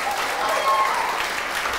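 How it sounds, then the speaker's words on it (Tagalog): A church congregation claps loudly and continuously in praise during a worship service, a dense, close wash of applause with faint voices underneath. "Yung palakpak ng mga excited."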